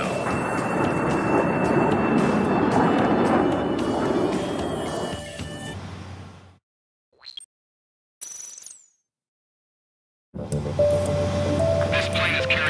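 An aircraft in the Ace Combat 7 video game makes a loud, sustained engine roar for about six seconds, then cuts out to near silence with brief faint sounds before the game noise returns loudly.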